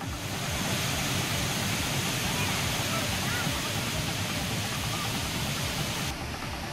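The Thiruparappu waterfall in Kanyakumari district, swollen after heavy rain, gives a steady, loud broadband roar of rushing water that fills the clip without a break.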